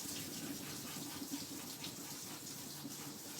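A kitchen tap runs while cake whisks are rinsed under it, giving a steady hissing splash of water that holds at an even, moderately quiet level from start to finish.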